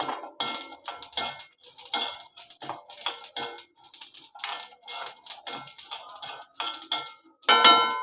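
Ingredients for chicken pickle dry roasting in an iron pan, with a steady run of metallic scraping and clinking from a spatula or spoon stirring against the pan. The clinks come close and repeated, with no talk.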